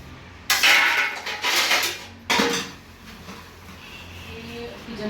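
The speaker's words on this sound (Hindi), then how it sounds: "देखिए कितने बर्तन रखे हैं सिंक में। तो पहले जाती हूँ बर्तन धोने," Dishes, pots and pans being washed in a kitchen sink, with bursts of clattering and clinking metal and ceramic over running background noise, two loud spells followed by quieter handling.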